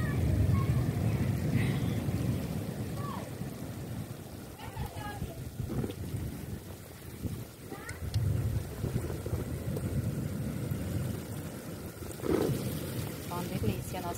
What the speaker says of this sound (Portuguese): O vento tá muito forte.